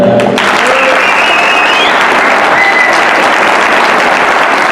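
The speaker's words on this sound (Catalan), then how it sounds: "per a què demano un fort aplaudiment" A crowd applauds at a reception for cycling champions, loud, dense clapping sustained throughout, with a faint whistle-like tone briefly rising above it early on.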